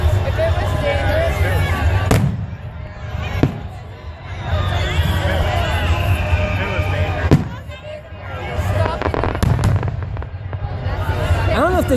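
Fireworks show in Redding, 2014, with several loud, sharp bursts spread through the scene over a constant crowd murmur, and people talking nearby throughout.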